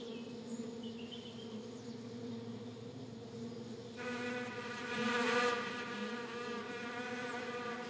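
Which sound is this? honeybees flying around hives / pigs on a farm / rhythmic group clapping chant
honeybees flying around hives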